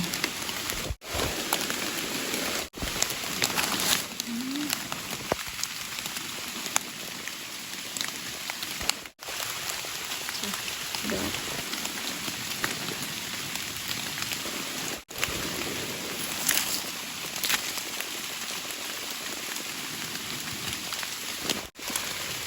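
Steady rain falls continuously in a forest, a dense hiss of drops on surfaces with occasional louder patters, no voices.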